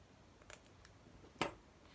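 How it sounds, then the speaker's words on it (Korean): Scissors snip wire to finish a cotton Christmas wreath, a few faint ticks followed by one sharp close cut, in a quiet room. "그래서 가위로 잘라서 마무리."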